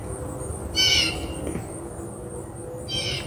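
A bird gives two loud, squawking calls, the second about two seconds after the first, over a constant low hum in a quiet indoor-sounding space; the harsh cries could almost be mistaken for a crying baby.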